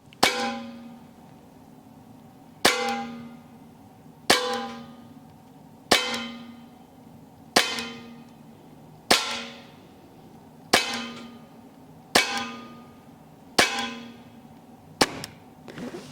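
Crosman Armada PCP air rifle firing pellets in semi-automatic mode: about ten sharp metallic cracks, each with a short ringing decay, spaced roughly one to two seconds apart, with the last two coming close together.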